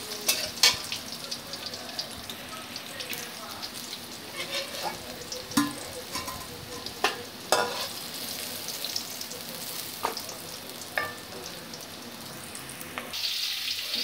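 Bitter gourd pieces frying in a generous amount of oil for a bitter gourd curry, a steady close crackling sizzle with occasional sharp pops and stirring scrapes, no talking.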